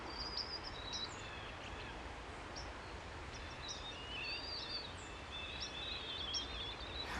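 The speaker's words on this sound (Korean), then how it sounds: "정원을 보면 새소리가 들리더라고요." Small birds chirp and twitter in the garden of a Daegu apartment complex, scattered faint calls over a steady outdoor hush, fairly distant and quiet.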